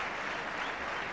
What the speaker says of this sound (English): Now the applause starts.